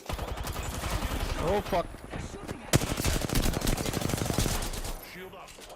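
Rapid bursts of gunfire from a mounted gun in a shooter video game hammer away almost continuously, loud and close, with a brief pause before another long burst, while players talk and swear over the firing.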